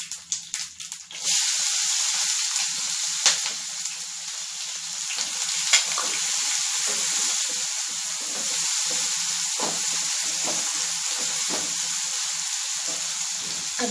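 Small chopped onions and green chillies fry steadily in a hot pan for a taro curry, giving a continuous close sizzle with a few light clinks and stirring scrapes, and no talking.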